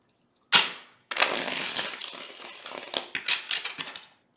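Tarot cards are shuffled nearby: a sharp riffle snap followed by a longer run of dense papery flutters and crinkly card slaps, then a few shorter shuffling bursts, with no talk.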